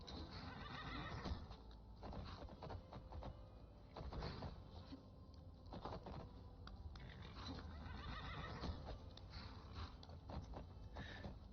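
A horse in the video game Skyrim whinnies repeatedly over steady clip-clopping hooves, the sounds quiet and muffled, with no talk.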